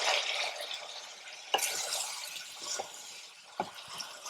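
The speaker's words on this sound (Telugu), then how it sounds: "కలుపుకోవాలి మంచిగా. చికెన్ కట్టేట్టు కలుపుకోండి." A spoon stirs chicken fry with pepper, cloves and cardamom in a pan, making close scraping and shuffling sounds over a soft sizzle, with a few light clinks against the pan.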